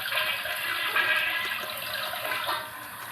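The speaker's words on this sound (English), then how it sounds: "I'm gonna throw that down the toilet." A household toilet flushes nearby in a bathroom during a wet shave, a steady loud rush of water that holds for about two and a half seconds before tapering off, with no talk.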